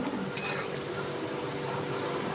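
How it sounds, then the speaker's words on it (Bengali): Water lily pakoras frying slowly in oil over low heat, a dense continuous crackling hiss with a faint clink early on, steady and fairly loud with no speech. "আমি আঁচটা কম করে দিয়ে আস্তে আস্তে করে বেজে নিচ্ছি"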